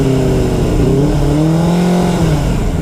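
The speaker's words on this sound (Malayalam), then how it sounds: "ബൈക്കിൻ്റെ സൗണ്ട് എന്ന് പറയണത്" A Benelli 600i 600cc motorcycle engine revs steadily up and down close by, a loud continuous mid-pitched roar with rising and falling tones.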